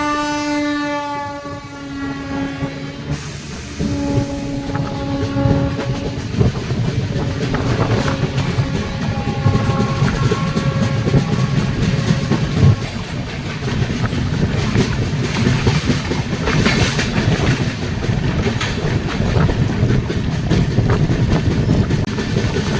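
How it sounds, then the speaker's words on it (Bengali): The Ranchi–Howrah Intercity Express approaches near Purulia with a loud horn blast, then roars past close by in a long rush of clattering wagons and wheel noise, with no voices. "সামনে থেকে কোনো একটা ট্রেন আসছে,"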